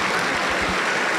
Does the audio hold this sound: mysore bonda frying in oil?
no